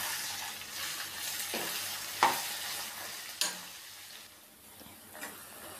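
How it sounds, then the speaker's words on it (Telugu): Grated raw mango frying and being stirred in a pan over a medium flame, with a soft steady sizzle and a few sharp scrapes of the spoon against the pan. "ఇట్లా మామిడికాయ తురుము వేసాక ఒక 5-6 నిమిషాలు ఇట్లా మీడియం ఫ్లేమ్లోనే ఫ్రై చేసుకోవాలండి."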